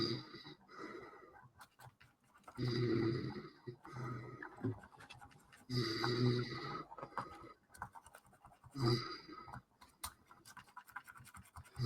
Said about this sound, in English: we can't tell Geordie off for snoring anymore